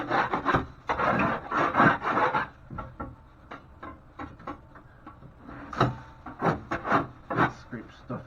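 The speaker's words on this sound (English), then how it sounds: "I'm going to scrape it with a 6-inch knife" A 6-inch knife scrapes loose material off a drywall repair in rough, rasping strokes. The strokes come in dense bursts, then as shorter, spaced scrapes.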